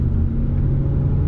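A 2022 VW Tiguan engine pulls hard under acceleration in S mode, with a steady low rumble and drone heard from inside the car.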